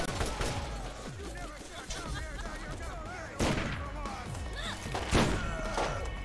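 Revolver shots ring out in a video game, with several sharp, loud cracks spaced a second or two apart among rapid lighter impacts, while voices talk over the gunfire.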